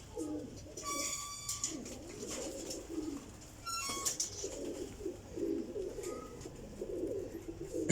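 Pigeons coo in soft, repeated rolling phrases at a moderate distance, with a few sharper bird chirps and faint background noise between the calls.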